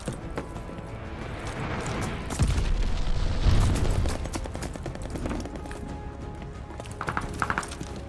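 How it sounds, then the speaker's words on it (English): A glide bomb explodes during a Call of Duty: Vanguard team deathmatch, a heavy low boom rolling through the middle amid busy battlefield clatter and scattered sharp impacts. "Friendly, sending a glide bomb."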